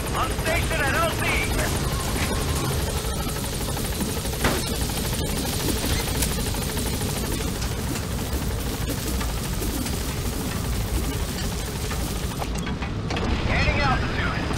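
A helicopter in the game Metal Gear Solid V arrives at a landing zone, its rotor chop and turbine whine loud and continuous, with radio voices over it and a brief swell near the end.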